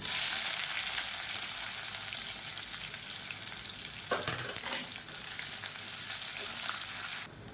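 Sliced onions sizzle and fry steadily in hot oil with mustard seeds, fennel and curry leaves, a continuous close crackle with a brief stir midway and no talk.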